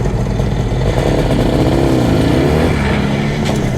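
An IZh Jupiter 400cc motorcycle fitted with two carburetors rides along a road at sunset, its engine droning loud and steady with a rising and falling pitch as it pulls, and no voices.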